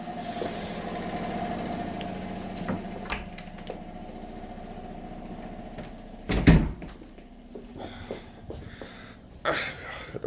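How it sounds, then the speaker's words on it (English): A door is pushed shut indoors with a single solid knock partway through, over a steady low background hum and some faint handling noise. "I'm just going to shut this door."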